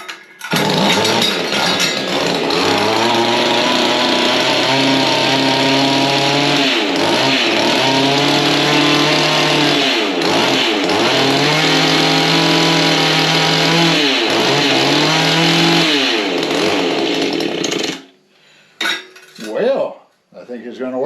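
A Mantis tiller's small engine, run on choke after sitting unused for a long time, roars close and loud, its pitch surging up and down several times before it cuts out near the end.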